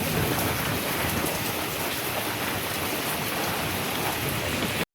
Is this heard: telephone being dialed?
no